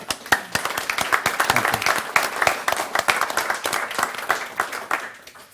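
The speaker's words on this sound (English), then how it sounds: "A round of applause for you." Audience applause after a talk on global jihad and Islamic radicalism: loud, close hand clapping with distinct individual claps in a steady patter, tapering off at the end.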